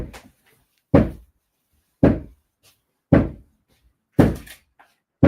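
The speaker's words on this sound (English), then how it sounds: "They are fixing that balcony, and I'm not about to be in here while they knock it off." Workers pounding on a hurricane-damaged balcony that is separating from the house, knocking it off for repair: five heavy, evenly spaced thuds about a second apart, each a loud dull impact with a short decay, with quiet gaps between.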